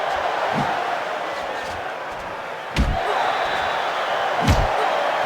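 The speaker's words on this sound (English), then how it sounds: "the crowd is really getting into it here tonight" A crowd cheering in a boxing video game during a Pacquiao vs Corrales lightweight bout, a steady wash of arena noise broken by a few sharp thudding punches, with a commentator talking over it.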